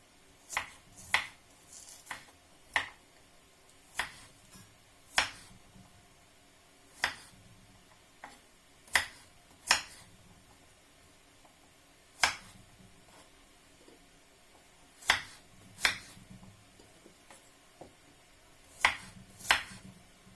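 Irregular knife chops cutting garlic into small pieces on a cutting board, crisp and close, single taps and quick pairs spaced apart against a quiet background.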